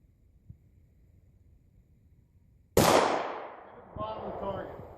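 A single sharp Glock pistol shot cracks loudly at an outdoor range after a quiet pause, followed by a decaying echo and a brief voice.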